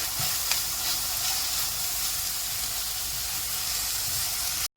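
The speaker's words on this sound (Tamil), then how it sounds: "போட்டுட்டு நல்லா பொன்னிறமாக வர வரைக்கும் வெங்காயத்தை வதக்கி எடுத்துக்கலாம்." Onions sautéing in a pan until golden for a mutton curry with curry leaves, a steady close sizzle with faint stirring scrapes, cutting off abruptly at the end.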